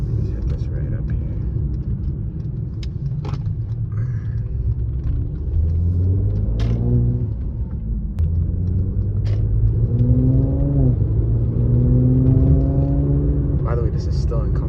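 A Mercedes-AMG's exhaust rumbles deep and steady from inside the cabin while cruising in comfort mode, swelling with rising revs, with a person talking over it throughout.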